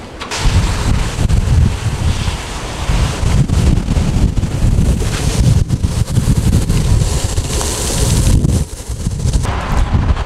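Strong wind batters the microphone in loud, continuous rumbling gusts at a racing event in Denmark, with no voices, only a brief dip in the roar near the end.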